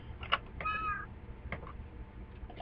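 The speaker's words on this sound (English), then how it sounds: "Cat is meowing." A cat meows in the Minecraft video game, two or three short, clear game meows over a quiet low background hum.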